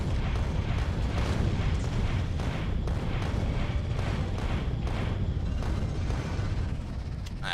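Explosive rockets hit a biter nest in the video game Factorio, a dense, continuous barrage of booming blasts with rapid regular thumps that stays loud for the whole stretch.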